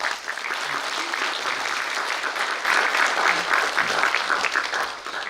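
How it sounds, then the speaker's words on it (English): Steady applause from an audience at an international psychology talk, dense and continuous, fairly close and loud, with no speech over it. "A big round of applause for him."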